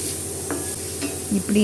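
Agathi flowers being sautéed in a pan sizzle steadily while a spoon stirs them, with a few scraping strokes against the pan, close and fairly loud.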